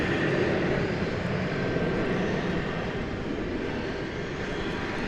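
An airliner arriving at DFW Airport, a broad steady engine roar with a faint whine, moderately loud and distant, holding level and easing slightly near the end, with no voices.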